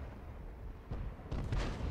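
An M40/M43 self-propelled artillery gun fires in World of Tanks on the Zastava map: a faint, muffled low thump followed by a heavier, rumbling boom that lingers briefly.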